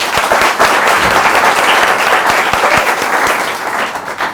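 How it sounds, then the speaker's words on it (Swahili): A studio audience applauds loudly and steadily at the close of a Nairobi talk show interview, dense clapping filling the whole stretch without any speech. "wapi makofi yake?"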